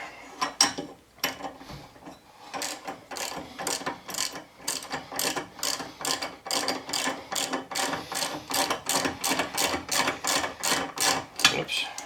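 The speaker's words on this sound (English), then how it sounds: "I'm going to have to lift this up a little bit to get my ratchet in there." A hand ratchet loosens a bolt on a Coleman generator, clicking in quick, regular bursts of sharp pawl clicks. The strokes repeat steadily throughout, close up and fairly loud.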